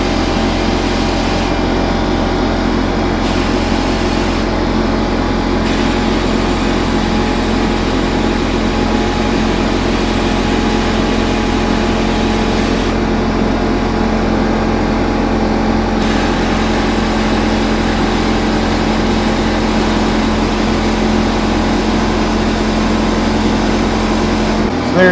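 A VEVOR sandblasting cabinet blasts flux residue off a brazed carbide threading tool, giving a continuous loud hissing roar over a low mechanical hum. It runs unbroken and close, without speech.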